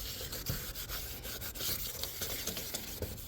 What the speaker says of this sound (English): we're going to do another wet sanding with the 2000